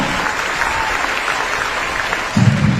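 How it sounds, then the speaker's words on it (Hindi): An audience at a film screening event gives loud, dense applause throughout, a steady wash of many hands clapping with a slight swell near the end. "उनके लिए एक जोरदार तालियां"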